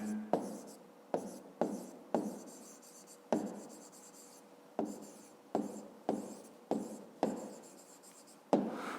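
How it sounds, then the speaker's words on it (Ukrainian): Pen on paper writing out a maths explanation by hand: a series of short scratchy strokes, each starting with a sharp tap and trailing off, close and fairly quiet with pauses between. "Ну і записуємо пояснення."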